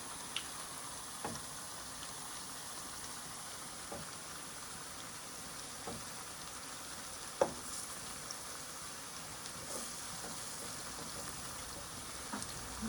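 Plantains fry in very hot coconut oil in a pan, a faint steady sizzle with scattered soft clicks and taps of a utensil.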